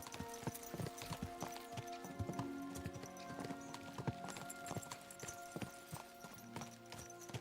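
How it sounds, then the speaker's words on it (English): Horses move along in the Kingdom Come: Deliverance II video game, with a rapid, steady clatter of hooves and jingling tack under ambient game music, fairly quiet and with no talk. "Let's really spur these horses on, eh?"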